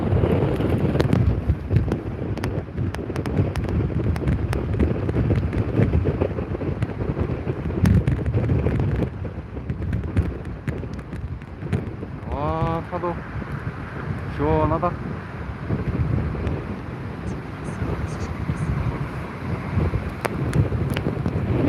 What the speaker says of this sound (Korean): 밖에는 많이 부네요